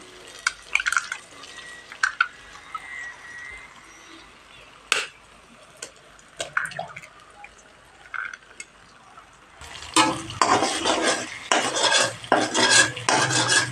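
Cracked eggs are stirred together with spices and oil in a pan, a series of scattered scrapes, taps and clinks from a utensil, sparse at first and then busier, denser and louder in the final few seconds.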